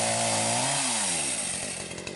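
A chainsaw runs close by, its engine note rising and falling as it revs, then settling into a rough, buzzing idle, loud and alone.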